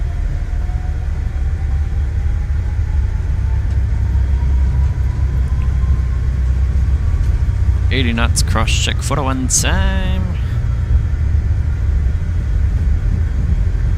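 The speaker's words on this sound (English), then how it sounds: "Man, those engines sound good." Airliner jet engines roaring at takeoff thrust in Microsoft Flight Simulator, a steady, loud, low rumble that holds throughout while a pilot's voice briefly calls out over it.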